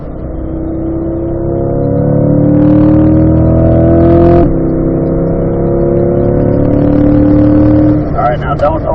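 A car engine steadily climbs in pitch as it accelerates out of a corner on a road course, then briefly drops and rises again. The engine note stays loud and close throughout, with speech over it.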